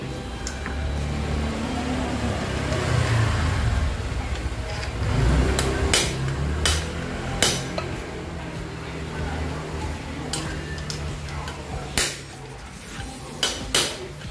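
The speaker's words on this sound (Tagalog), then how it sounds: "Huwag mong pilitin, dahan-dahan ng pukpok." Hammer blows on a chisel knocking out the ball race of a Honda Click V3 scooter, a series of sharp metallic strikes, irregular at first then several in quick succession, over a steady low workshop hum.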